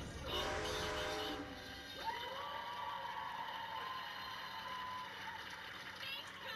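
A train in the video game Red Dead Redemption 2 starts moving again, with a rumbling burst followed by a rising, whistling mechanical tone that settles into a steady drone, heard at moderate distance.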